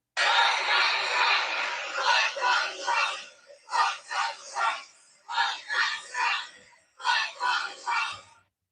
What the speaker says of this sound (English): So Trump booed at the Army-Navy football game.